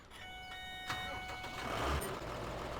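A small SAME farm tractor with an overhauled engine cranks and starts after steady warning beeps. The engine catches in a brief surge and then settles into a low rumble, heard nearby, with no one speaking.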